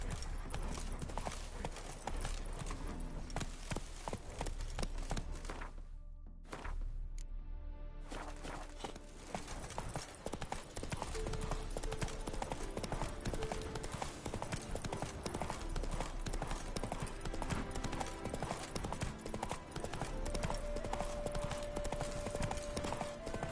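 Horse hooves clip-clop steadily through a gallop in The Witcher 3 video game, close and continuous with game music and ambience underneath, a brief drop-out partway, and a stray neigh-like sound.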